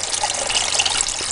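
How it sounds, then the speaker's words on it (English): Water trickles down a gold sluice tray in a steady, close, continuous wash of hiss and splash with no pauses. "We got a little water coming down"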